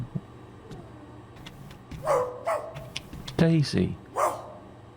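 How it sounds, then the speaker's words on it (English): Dog in The Milgram Experiment demo video game giving a few short barks and yips in a quiet room, with a person briefly speaking nearby. "Is there a dog in there?"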